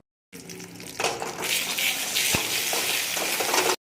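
Egg being scrambled and fried in a wok-style pan while making home-style chowmein, with a steady loud sizzle and scraping stir strokes and a sharp clack partway through; no talking.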